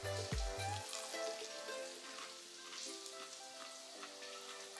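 Crisp, crackly crunching from biting into and chewing a homemade vegetable pakora packed with onion. The crunch starts with a soft thump, then a dense, close crackle runs steadily throughout with no talking.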